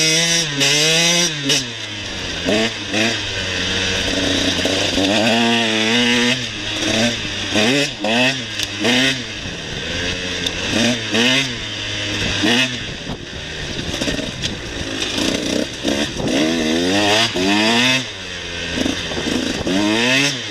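A KTM dirt bike at a demo ride event revs hard and continuously near by, its engine note rising and falling through repeated throttle blips and shifts over about twenty seconds.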